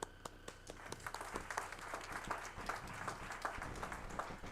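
Applause breaks out at a St. Louis Public Schools board meeting, a scattered crowd clapping at moderate distance, quiet and steady throughout.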